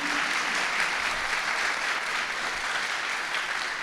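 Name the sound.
audience applause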